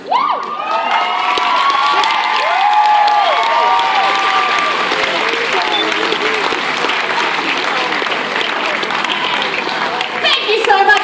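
A convention audience applauds and cheers loudly for a cosplayer leaving the stage at a cosplay competition, with dense sustained clapping, whoops and children's shouts filling the hall throughout, while an announcer's voice threads through the crowd noise.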